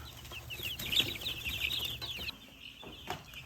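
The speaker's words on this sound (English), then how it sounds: "Check out these giant chickens." Several chickens cluck and chatter continuously close by, busier in the first half, with occasional knocks and rustles.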